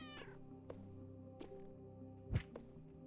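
A cat meows in a video game shop scene, a brief, faint call at the start, followed by soft taps and thumps in a quiet setting.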